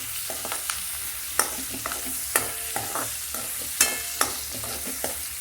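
Capsicum and onion sautéing in a pan for paneer do pyaza, a low steady sizzle broken by sharp spatula scrapes and clinks at irregular intervals, close and alone with no voices.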